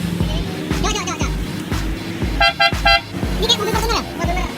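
Telolet horn fitted on a Kawasaki Ninja 300 FI, sounding several short, bright melodic toots in bursts over a deep idling motor, with people talking nearby.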